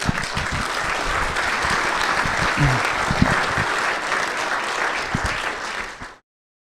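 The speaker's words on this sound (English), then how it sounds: "Why don't we give our 6 presenters a round of applause?" An audience at a delegate meetup claps for six presenters, sustained crowded applause with a few sharper individual claps, holding steady before fading out abruptly near the end.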